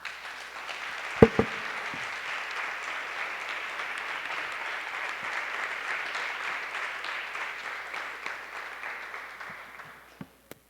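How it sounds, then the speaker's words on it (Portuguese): A church congregation at a Shabbat celebration breaks into sustained, dense applause for about ten seconds, a broad even wash of clapping that fades out at the end. "eu gostaria que todos dessem uma salva de palmas para o Senhor Jesus."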